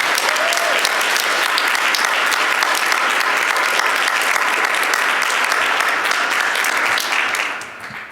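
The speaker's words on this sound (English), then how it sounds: "I just want to give them a round of applause because they certainly deserve it." Sustained applause from a sizable crowd, steady and dense throughout, tapering off slightly at the very end.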